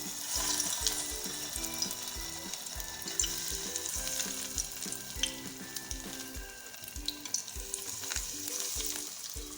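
Chicken bread cutlets frying in hot oil in a pan, a continuous bright crackling sizzle with a rhythmic low mechanical hum underneath throughout.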